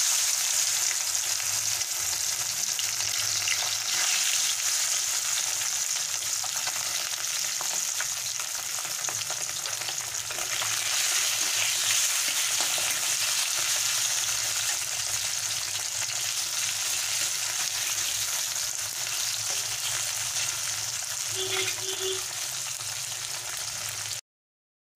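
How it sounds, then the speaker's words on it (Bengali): Latha fish rubbed with salt and turmeric fries in hot oil, giving a loud, steady sizzling hiss that stays even from start to finish with no voices. "তেলটা আমার গরম হয়ে গেছে, এবারে আমি মাছগুলোকে দিয়ে দেব।"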